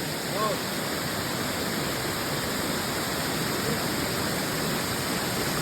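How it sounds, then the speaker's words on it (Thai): Steady, dense roar of the Ang Phak Nam waterfall, Khao Yai, Chonburi, in high flow, a continuous broadband rush with no breaks, close and fairly loud. "ได้ฟังเสียงน้ำตกแล้วซื่นใจบ่พี่น้อง"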